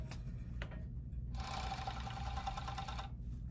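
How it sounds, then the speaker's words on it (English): A sewing machine stitches the inner leg seam of a pair of pants in a steady, continuous whir lasting under two seconds, close and alone after a few soft handling taps. "now I have sewn the inner leg seam of my pants"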